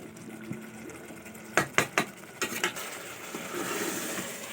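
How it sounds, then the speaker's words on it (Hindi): Chicken frying in a pan is stirred with a few sharp metallic clanks and scrapes in quick succession over a soft continuous sizzle that grows louder afterward. "ये देखिए चिकन भी भून रहा है"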